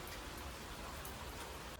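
Steady, dense rain pours down in a continuous broadband hiss with no let-up, fading abruptly at the very end.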